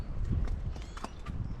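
Hooves of an unshod horse clop on a road while being ridden downhill, a quick uneven beat of soft thuds heard close over steady outdoor rumble.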